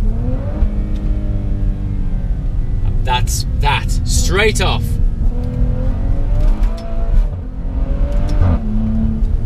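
Maserati Levante SUV engine revving loudly nearby, its deep growl climbing in pitch over several seconds with a few sharp upper bursts, while someone talks briefly over it.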